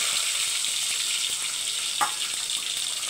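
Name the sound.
dried and green chillies frying in oil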